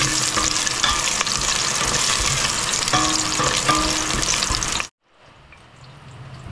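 Ginger and garlic sizzle loudly in a hot pan for frog adobo, a dense steady frying hiss with some stirring, which cuts off abruptly near the end and leaves a quiet tail.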